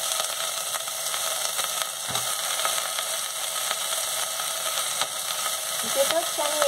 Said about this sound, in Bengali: ফুলকপিটাকে দিয়ে দেবো।